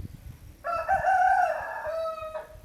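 A single rooster crows once, loud and close, a drawn-out cock-a-doodle-doo lasting nearly two seconds over quiet background noise.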